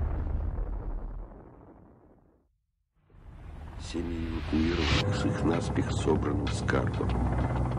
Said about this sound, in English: It explodes with a force of 10 million tons of TNT, 600 times more powerful than the bomb that destroyed Hiroshima.